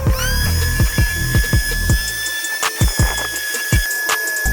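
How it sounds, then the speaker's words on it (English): A high-pitched power sander whines continuously up close while repeated rhythmic scraping strokes grind against wood, rounding its edges, briefly pausing before resuming. "Try to round over the edges with your sanding device."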